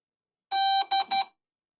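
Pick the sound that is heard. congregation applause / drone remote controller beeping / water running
drone remote controller beeping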